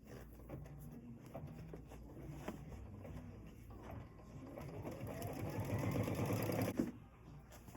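An embroidery machine stitches lettering in the hoop, its quiet motor building into a faster, louder whir near the end before stopping.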